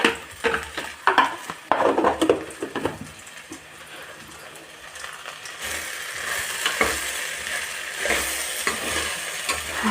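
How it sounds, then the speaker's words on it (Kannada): Sliced okra fries and gets stirred in a pan, spatula scrapes and clinks in the first half giving way to a steady, close sizzle. "ಆದಷ್ಟು ಸ್ಲಿಮ್ ಎಲ್ಲ ಇಟ್ಕೊಂಡು ಹುರಿರಿ."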